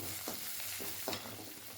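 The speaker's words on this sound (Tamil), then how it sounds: "போட்டு நல்லா வதக்கி விட்டுருங்க." Chopped green chillies and cumin sautéing in a pan, a steady close sizzle broken by three soft scraping stirs at a relaxed, uneven pace.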